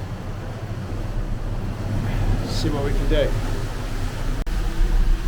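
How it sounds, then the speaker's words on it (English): Strong stormy wind roars across a microphone by the sea, a steady loud rumble with surf beneath it, while someone speaks briefly over the gusts. "there's some thundering wind that's battering past here and it's very loud"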